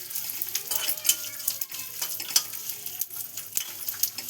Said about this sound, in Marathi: याला फ्लोअर भाजून घ्यायचं आहे, हलकंसं भाजायचं आहे